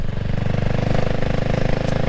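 A CCM Spitfire Six motorcycle engine revs hard under throttle, a loud, steady, close-up throbbing drone with a rapid pulsing beat throughout.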